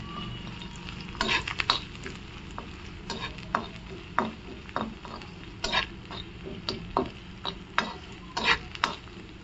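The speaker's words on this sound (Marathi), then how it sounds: "इथे मी ना एक बारीक चिरून घेतलेला कांदा ॲड करणार आहे। छान असं आपण परतून घेऊया" Finely chopped onion fries in garlic-flavoured oil while being stirred, a steady low sizzle broken by repeated scraping strokes of the spoon against the pan at an irregular rhythm, close and moderate in level.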